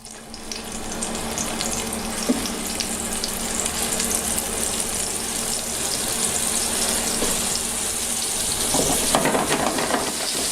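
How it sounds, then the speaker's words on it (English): Meatballs frying in vegetable oil in a hot pan, a steady close sizzle with crackling and occasional scraping, continuous throughout. "I add vegetable oil, just enough to cover the bottom, and then I put the meatballs in to fry"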